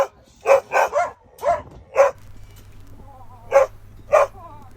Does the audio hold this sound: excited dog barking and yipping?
yes